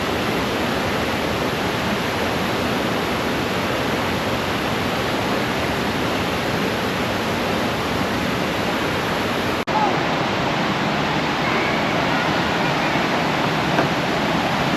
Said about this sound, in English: This might have to be our waterfall.